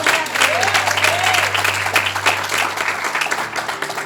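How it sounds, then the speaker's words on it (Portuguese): A church congregation applauds during a sermon, a loud, dense wash of clapping lasting about four seconds over a low sustained hum, with a voice faintly audible beneath. "Aplauda esta palavra"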